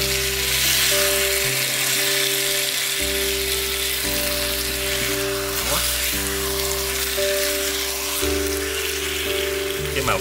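Meat sizzles and crackles in caramel sauce in a pot, a steady frying hiss that runs the whole time beneath background music.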